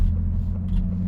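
A Ford Bronco Raptor fitted with an MRT H-pipe exhaust rolls along at very low cruising speed on light throttle, giving a steady, deep, rumbling drone close by with no sharp revving.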